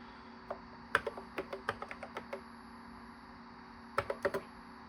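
Keys on an Apple computer keyboard tapped in short irregular bursts, a few scattered clicks then a quick cluster near the end, close and fairly quiet over a steady low hum.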